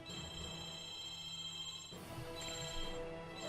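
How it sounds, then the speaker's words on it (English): A telephone rings in the background of a Risk Factions Xbox online game session, its repeating electronic trill running steadily across the clip over faint game sound. "Oh, there's my phone going off."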